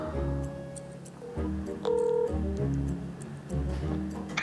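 A telephone is dialed in an office building, a short series of distinct tones and button beeps over a low background hum, close and fairly quiet.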